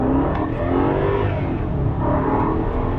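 A BMW 650i/750i launches hard from a standstill in a 0-60 mph run. Its engine roars loud and close, with a continuous strained whir as it pulls through the low gears.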